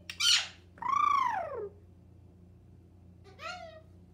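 A pet parrot gives three harsh, rising-and-falling squawks: a short sharp one, a longer drawn-out cry, then after a pause a final shorter call, close and loud with no talking.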